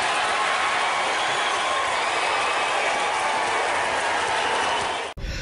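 A large audience applauding and cheering, a dense, continuous roar of clapping at steady loudness that cuts off abruptly near the end.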